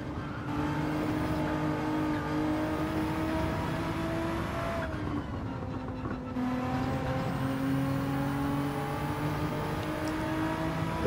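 Race car engine in a racing video game on the Watkins Glen circuit, droning steadily and loud with rising and falling pitch through gear changes, a brief lift around the middle before it builds again.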